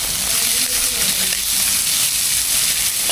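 Onions frying with dried anchovy for Sri Lankan seeni sambal, a dense, even, close sizzle hissing without a break.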